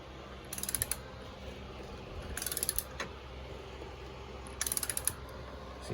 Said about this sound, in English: We're just gonna torque this down to 77 foot-pounds.